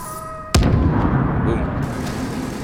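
In The Division, gunfire hits an enemy's flamethrower fuel tank and it blows up: a sharp crack followed by a heavy, rumbling explosion that lingers and fades slowly.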